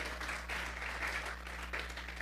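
A church congregation applauds in a Sunday service, a steady wash of clapping from many hands that holds evenly throughout over a low hum.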